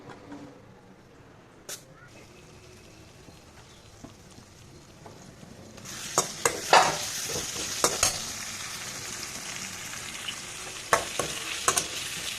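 Onions frying in a pan for tamarind chitranna rice, a soft sizzle that rises after about six seconds with sharp utensil scrapes and stirring clicks scattered over it, with faint voices in the background.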